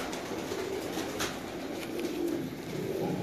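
Pigeons in a loft in Gujranwala give soft, low cooing calls that repeat against a steady background of birds and room noise, moderately close.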